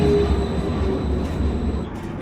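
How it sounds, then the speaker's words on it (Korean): A train pulls into a city-centre station in China, giving a loud steady rumble of wheels on rail with a faint squeal and a high whine fading near the end. "열차가 왔어요."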